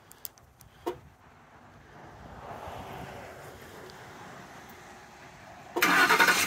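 A 2008 Ford Explorer V8 is started, with a few faint clicks and a quiet stretch before the engine catches with a sudden loud, steady roar near the end.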